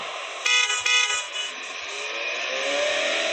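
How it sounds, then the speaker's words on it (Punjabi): A car horn honks loudly and close in two short blasts, followed by a lingering drone of traffic and engine noise. "ਇੱਥੇ ਤੁਸੀਂ ਕਾਰ ਦੀ ਧੁਨੀ ਸੁਣ ਸਕਦੇ ਹੋ।"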